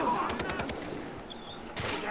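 Rapid bursts of automatic machine gun fire in the video game Far Cry 3 crackle in short volleys, with a brief lull in the middle before another burst near the end.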